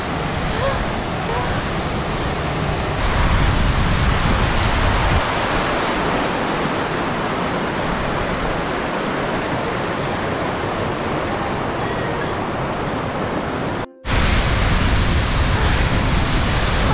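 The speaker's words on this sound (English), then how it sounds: "this waterfall is gorgeous." A gorgeous waterfall on a creek beside the John Muir Trail route up to Evolution Lake gives a loud, close, steady rush of water that barely changes throughout, with a brief cut near the end.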